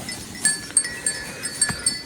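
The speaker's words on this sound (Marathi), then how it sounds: "सगळ्या खूप मोठ्या गाई आहेत" A herd of large cattle moves through a village, their cowbells clinking in a few irregular, fairly close rings over quiet rustling background.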